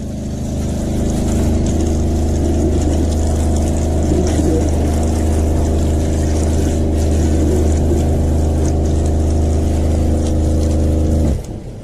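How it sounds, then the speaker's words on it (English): A pressure-sensitive water pump in a campervan kitchen hums steadily and loudly once the sink tap is opened, a constant motor drone with running water that cuts off abruptly near the end. "it's under a pressure sensitive pump, so literally you just turn the tap on and happy days."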